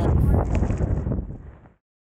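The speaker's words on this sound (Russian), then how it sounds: "Мы сейчас тут просто в ветре" Wind rushes across a microphone on a ski slope at Krasnaya Polyana, a steady, close, blustery roar that fades out after almost two seconds and leaves silence.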